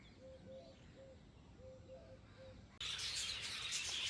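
Budgerigars chirp in quick, evenly spaced notes, soft and somewhat distant, before a sudden burst of loud hissing noise cuts in.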